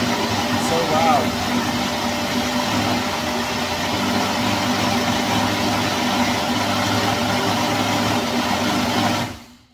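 A loud Ninja blender whirs steadily for several seconds, a continuous motor drone with a gritty chopping texture, then shuts off and fades quickly at the end.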